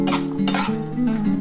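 Bori, broken lentil dumplings, frying in hot oil in a pan, a close crackling sizzle with two sharp bursts of spatter early on and softer bubbling afterward.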